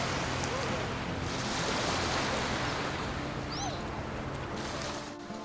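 Ocean surf breaks on a beach, a broad continuous wash of waves with wind buffeting the microphone, loud and close throughout.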